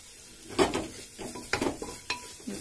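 Jeera masala is fried and stirred in a pan, with several distinct clinks and scrapes of a utensil against metal over a low sizzle, close and moderately loud with no talking.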